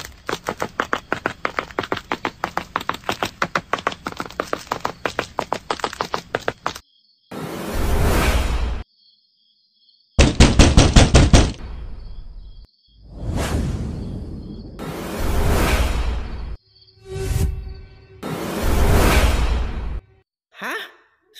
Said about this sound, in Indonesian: Seperti suara gedoran-gedoran pintu yang amat keras.